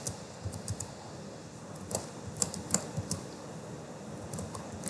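Typing Python code on a computer keyboard: soft, irregular key clicks close by, in short clusters with brief pauses over a faint steady background hum.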